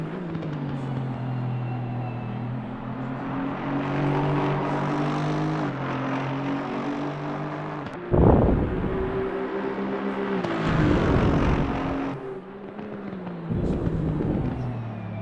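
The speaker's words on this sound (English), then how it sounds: "the sounds from the outside of this car are very similar to the rFactor2" A GT3 race car in the rFactor2 racing sim at the Nürburgring GP circuit, heard from outside: a steady engine drone rising and falling through the gears, with sharp bursts around shifts and braking.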